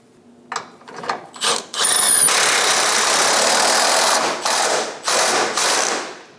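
A hand ratchet snugs down a fuel tank strap bolt on a Chevrolet Express 2500 van, opening with a few quick clicking strokes and then a sustained loud run of ratcheting, broken near the end by short pauses before further bursts.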